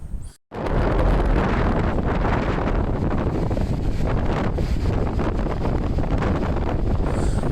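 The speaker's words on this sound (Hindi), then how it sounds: "इन रास्तों में बहुत तेज़ हवा चलती है और उतनी ही तेज़ भगीरथी की आवाज़ है।" Strong mountain wind roars continuously across the microphone along the Bhagirathi river route, a dense, steady rushing that blends with the river's roar and stays loud and close after a brief gap at the start.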